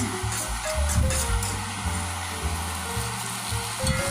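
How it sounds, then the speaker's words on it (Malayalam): Grated coconut being stirred into a bitter gourd stir-fry in a pan, with steady close sizzling and frying hiss plus soft scraping from the stirring, and no talking. "തേങ്ങ ചിരകി വെച്ചത് അതിലേക്ക് തന്നെ ഇട്ടിട്ട് നല്ലപോലെ ഇളക്കുക"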